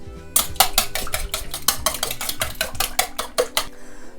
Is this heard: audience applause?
no